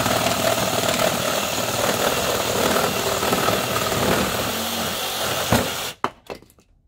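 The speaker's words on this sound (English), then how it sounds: "And I just use a reciprocating saw like this, throw it down here like that." A reciprocating saw cuts through scrap plywood outdoors beside an offset smoker, a loud, steady buzzing rasp lasting several seconds before stopping abruptly, followed by a few sharp clunks of wood pieces dropping.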